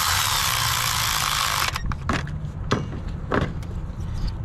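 A bolt holding a new ignition coil on a Toyota Corolla engine being tightened back down by hand, a few short sharp ratcheting clicks after a burst of steady hiss.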